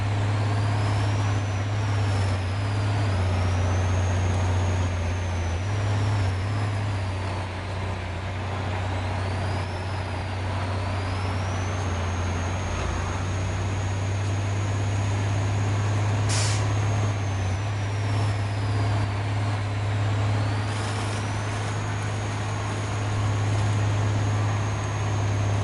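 A Dodge D6500 truck in SnowRunner strains under load on a mod map, a loud steady low engine drone with a turbo whine rising and falling over it throughout.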